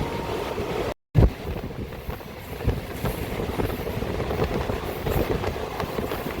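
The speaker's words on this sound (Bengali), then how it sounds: "তোমরা দেখতে পাচ্ছ ট্রেন কিন্তু খুব রানিংয়ে রয়েছে" A local train runs at night between Kharagpur and Belda, rumbling steadily with broadband wind and rattling noise, a brief dropout near the start, no voices.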